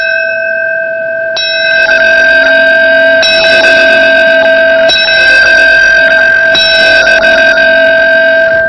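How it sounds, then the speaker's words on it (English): A New York City fireman strikes a bell in a memorial tribute, each clear, ringing chime sustaining and overlapping the next, several strikes spaced a second or two apart, loud and alone. "A New York City fireman rang a bell in 4 sets of 5 chimes."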